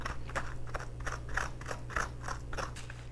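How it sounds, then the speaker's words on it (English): A grapefruit fork with jagged tips scrapes seeds out of a spaghetti squash, giving a series of rhythmic, close, scratchy strokes over a low steady hum. "Now we're going to scoop out the seeds. And what I like to use is a grapefruit fork"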